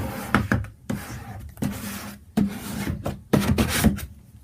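A squeegee rasps in short scraping strokes over a vinyl stencil laid on a screen-printing screen, close and moderately loud, with brief pauses between passes.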